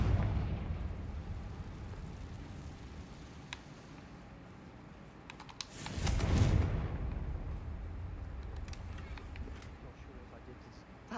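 A Confringo spell explosion in Hogwarts Legacy bursts as a deep, rumbling blast midway, swelling loudly before fading back into a steady low background din.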